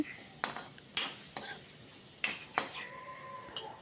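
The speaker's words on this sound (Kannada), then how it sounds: "ಟೊಮೆಟೊ ಹಾಕಿ ಮಿಕ್ಸ್ ಮಾಡ್ಕೊಳ್ತಾ ಇದ್ದೀನಿ" A spoon scrapes and knocks in a pan as tomato is stirred into fried onions, with sharp clinks spaced irregularly over a soft sizzle, close and fairly quiet.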